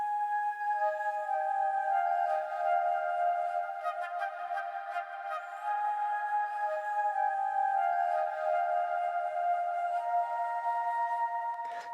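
Sampled flute from an orchestral sample library plays a sustained melody with vibrato, notes gliding and overlapping in a continuous line over faint background hiss, moderately soft and without speech.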